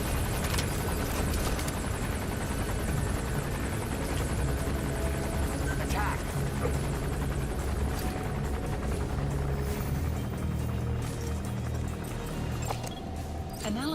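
Helicopter from the video game Metal Gear Solid V, a steady rotor drone holding close and loud throughout, with game music and effects mixed underneath.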